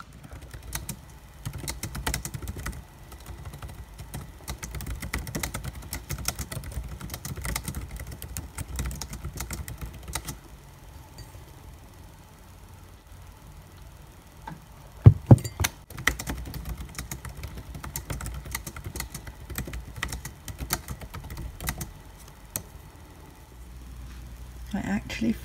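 Typing on a computer keyboard comes in bursts of quick, light key clicks with short pauses and one sharper knock midway. A quiet indoor setting surrounds it, with speech at times.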